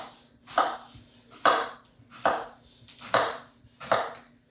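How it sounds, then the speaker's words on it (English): A knife chops a banana into chunks on a cutting board, five evenly spaced crisp thuds about a second apart, close and clear with no talking. "Just gonna chop our banana into chunks."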